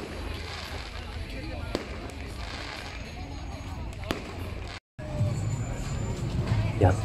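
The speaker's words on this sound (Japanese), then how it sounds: "散発的にこういう小さな打ち上げ花火が上がります。" Sporadic small fireworks pop amid New Year's Eve crowds on a busy Pattaya street, a few sharp distant cracks over steady street noise and people talking nearby.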